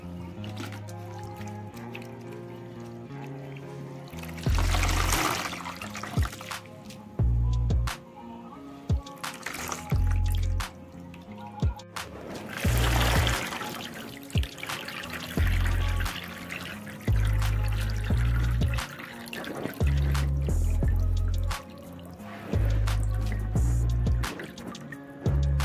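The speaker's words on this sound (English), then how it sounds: "bring out the hair and let it drip for some time" Water dripping from a soaked curly wig, faint irregular drips and trickles in quiet surroundings, broken by several louder bursts of dribbling and splashing.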